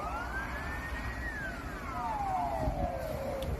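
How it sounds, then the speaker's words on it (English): A siren wails over steady background noise, its tone sweeping up, holding, then gliding down in a long fall. "why does that sound like a U.S. Navy siren?"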